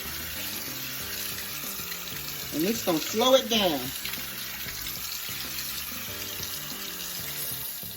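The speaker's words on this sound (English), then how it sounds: "You're gonna run this cold water," Cold tap water runs from a faucet over cooked lasagna pasta in a kitchen sink, a steady close splashing that briefly surges louder midway, with a person talking over it.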